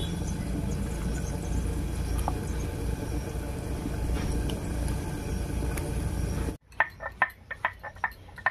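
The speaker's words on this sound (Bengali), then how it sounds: "আমি কয়েকটা বাদাম আর কয়েকটা কাজু বাদাম বেটে নিচ্ছি।" Soaked peeled peanuts and cashews being ground, a loud continuous whirring grind up close that cuts off abruptly, followed by a few light knocks and taps.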